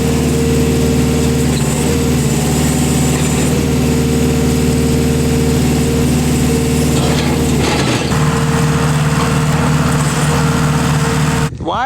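A farm truck engine drones loudly and steadily throughout while being driven, a constant rumbling note with a brief shift in pitch near the end.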